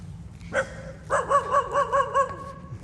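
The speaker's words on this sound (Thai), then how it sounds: "หมาก็เห่าดี" A dog barks once, close and loud, then lets out a quick run of about six sharp barks, with no one talking.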